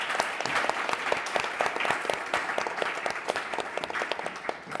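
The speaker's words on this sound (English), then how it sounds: "let's give a round of applause to our speakers" An audience applauds the speakers at the end of a panel on the nuclear review, brisk crisp claps close by over a steady bed of crowd clapping that carries on evenly.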